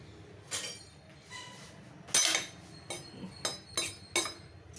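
Table salt stirred into a cooking pot, a series of bright metallic clinks and scrapes of a spoon against the pot, spaced irregularly, close and fairly quiet.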